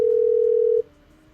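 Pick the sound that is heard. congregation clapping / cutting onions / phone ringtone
phone ringtone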